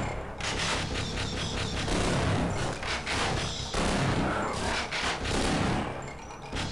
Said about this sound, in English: He's taken four double barrel shots